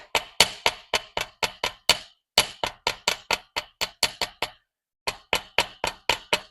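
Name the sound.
tracing hammer flattening tips of metal hoop earrings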